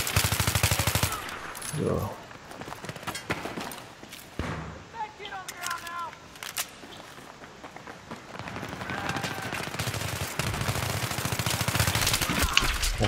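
Rapid M4 Carbine bursts and gunfire from a Battlefield 3 match, loud and dense, with other battle noise and a voice talking over parts of the fight.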